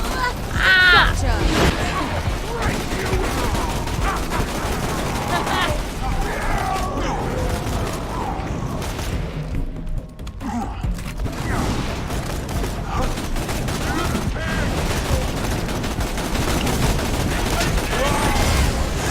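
Gunfire from Borderlands runs throughout as near-continuous rapid shooting under mechanical clatter and game effects, with a voice talking over parts of it.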